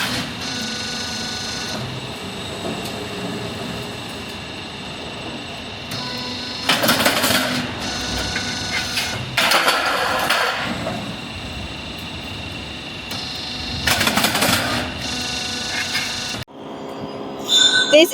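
A trapezoidal metal sheet roll forming machine with hydraulic cutting runs with a steady mechanical whine and hum, broken by several louder bursts of hissing, clanking cutting action, then a sudden drop near the end.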